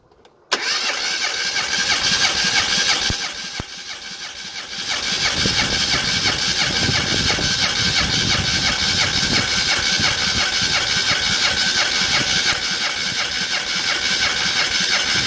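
A Classic Mini engine cranking over on the starter during a compression test on cylinder four: a steady, loud mechanical churning that runs almost continuously, with a brief dip partway through.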